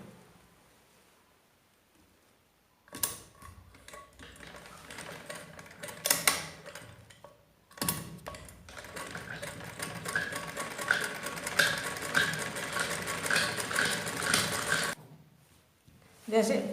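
A sewing machine runs in two long close bursts, stitching straight seams down both sides of an umbrella gown, a fast even mechanical rattle with a short pause between runs and a brief restart at the end.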